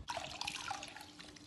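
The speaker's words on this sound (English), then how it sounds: "I'm just dunking it in water." A makeup removal cloth is dunked and swished in a bowl of cold water, giving a close, continuous watery splashing and sloshing that runs steadily for the whole short moment with no talking.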